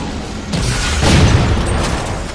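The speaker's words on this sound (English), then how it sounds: "The way the guns fire, the way the vehicles drive, the explosions." Loud, dense burst of booming gunfire, explosions and rumbling vehicle noise from the video game Halo 4, building to a peak midway and sustaining without a break.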